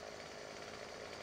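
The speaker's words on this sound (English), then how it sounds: "Let's grab our chainsaw." A chainsaw revving steadily in the video game Farming Simulator 2015 on Xbox One, a continuous loud buzzing drone held for about a second with no pauses.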